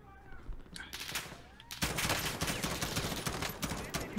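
Gunfire in the Modern Warfare 2019 battle royale video game, a quiet patch that breaks into a dense, continuous crackle of shots.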